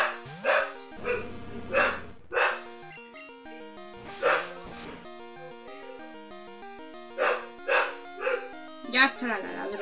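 A dog indoors barks in short bursts, several spaced yips and barks at close range over quiet game music, with a gap in the middle before more barking.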